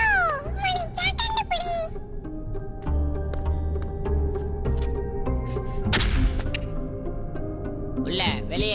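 A kitten in a cartoon meows several times, in a bright, wavering cry near the start and again near the end, over background music with thuds.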